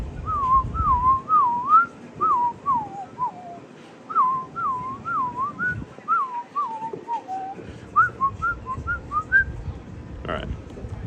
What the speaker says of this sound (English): the second hint is this whistled tune.